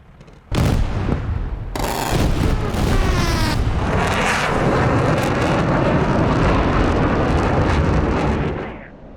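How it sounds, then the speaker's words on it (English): An F-16 Viper's cannon roaring through a strafing run in DCS World, a sudden loud, sustained ripping burst over jet engine noise that holds for several seconds before tapering off. "Guns on target."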